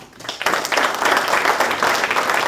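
An audience at a hockey awards ceremony gives sustained applause, a dense wash of clapping that swells after a brief quieter start and holds steady, loud and close, with faint voices underneath.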